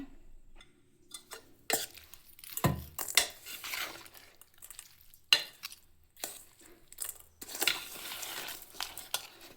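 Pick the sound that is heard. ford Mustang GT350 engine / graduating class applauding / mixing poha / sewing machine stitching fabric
mixing poha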